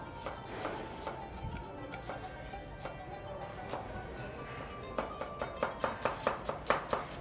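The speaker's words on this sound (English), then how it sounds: "you can see how beautifully our chef is finely chopping the onions" A chef finely chops onions on a board for lamb filo fingers: a run of sharp knife taps, sparse at first and then a quick, steady burst of close strokes near the end.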